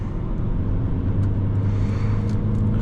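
A 2007 Volvo C30 2.0D diesel hatchback with 136 hp accelerates hard on the autobahn, heard from inside as a steady, loud engine drone under road and wind noise, with no talk.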